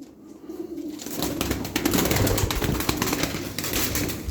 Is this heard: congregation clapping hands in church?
no